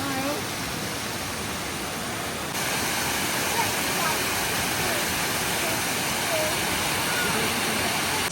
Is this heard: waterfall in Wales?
yes